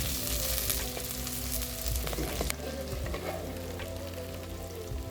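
Onions and green chilies sizzling and frying in a pan, a dense steady crackle with occasional stirring clatter, close and fairly loud, no talking.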